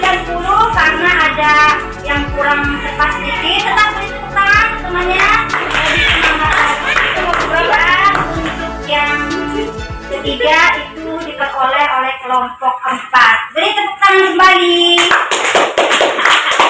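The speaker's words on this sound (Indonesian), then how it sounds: "Tetap beri tepuk tangan temannya." Schoolchildren in a classroom clap for a classmate group, brief rhythmic bursts of hand claps mixed with lively children's chatter and a teacher's voice throughout.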